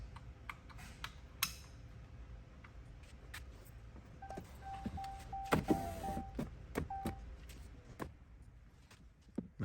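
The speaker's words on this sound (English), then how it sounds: "we'll start the vehicle to let the window down to our preferred area" A Ram truck's power window motor hums briefly while the glass lowers, faint and close inside the cab, with scattered clicks and ticks around it and a quiet idling engine beneath.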